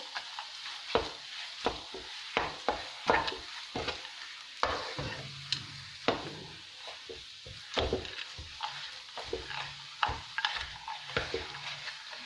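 Gram flour halwa mixed with nuts being stirred in ghee, with a spoon scraping the pan in quick irregular strokes and occasional harder knocks over a light sizzle, close up and without speech.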